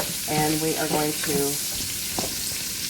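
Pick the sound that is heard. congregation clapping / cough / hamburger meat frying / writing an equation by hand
hamburger meat frying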